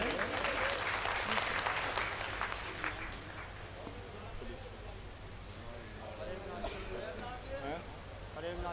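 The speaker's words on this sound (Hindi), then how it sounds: "कृपया इनका जोरदार तालियों से स्वागत करें।" An audience at a religious gathering of saints gives a welcoming round of applause for an arriving guest, a dense roar of clapping that is loudest at first and then thins, over a low background hum.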